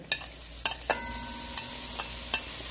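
Iguana and the remaining ingredients fry in a pot under a steady sizzle, while a spoon stirs and scrapes in several sharp knocks, all close and without talk.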